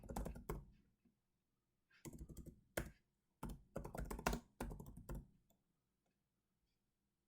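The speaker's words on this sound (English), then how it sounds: "Just type this in." Bursts of rapid clicking keystrokes on a computer keyboard, close and quiet, coming in several short flurries separated by brief pauses.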